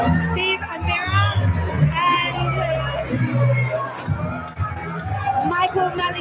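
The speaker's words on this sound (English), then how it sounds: "I hear the crowd's going crazy." A crowd at a live fight event in Marbella cheers and shouts in a noisy hall, loud babble and whoops mixing with a commentator talking over it.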